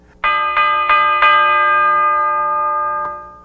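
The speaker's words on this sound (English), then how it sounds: "then I added a bell" Bell layered into a finished hip-hop beat: four quick, bright metallic strikes in a row, then one more a little later, each ringing out in a long sustained decay without any talk.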